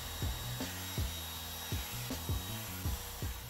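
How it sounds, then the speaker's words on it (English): A router-style bit cuts out the core of a fiberglass sailboat side panel, producing a steady whirring motor tone with repeated rasping, grinding strokes about every half second to second as the cut works along. "So now I'm cutting out the core where the bolts will pass through the side panel."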